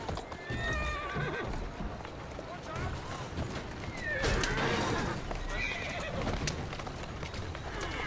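A horse in Assassin's Creed Syndicate whinnies several times over clip-clopping hooves on a street, with bird calls and a voice talking underneath.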